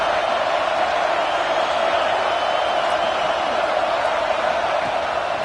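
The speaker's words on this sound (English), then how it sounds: "how nice is it to have the home crowd going absolutely bananas?" A home crowd in a video game football match roars loudly and steadily, a dense wall of cheering and noise that stays at the same level throughout, with no clear break.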